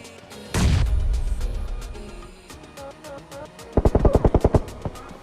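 Gunfire in the mobile battle-royale game PUBG Mobile: one heavy booming blast early on, then a rapid burst of about eight sharp, loud shots in quick succession, with no talking.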